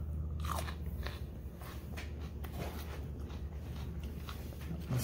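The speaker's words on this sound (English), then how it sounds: "I'm still chewing." Loud, close crunching and chewing of a hot, spicy food, with repeated crisp bites and mashing sounds running steadily through the whole stretch and no talk over it.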